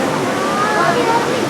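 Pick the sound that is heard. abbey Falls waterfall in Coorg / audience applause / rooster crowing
abbey Falls waterfall in Coorg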